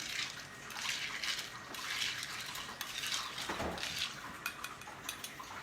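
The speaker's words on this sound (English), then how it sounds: "And you just stir that up." A spoon stirs a Hunter's cocktail of bourbon and cherry brandy in a glass, a steady, close, bright swishing and faint clinking that runs continuously throughout.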